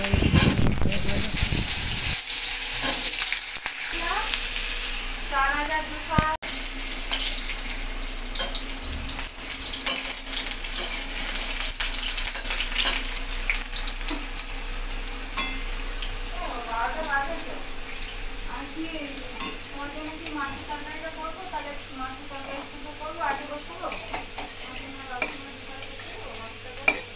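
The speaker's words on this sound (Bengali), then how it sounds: "এদিকে বড়া ভাজতে ভাজতে এদিকে আমি আলুটা ভেজে নেব" Vada fritters and potato frying side by side in two pans for a raw banana kofta dish, a continuous close sizzle with occasional stirring scrapes, steady and loud throughout.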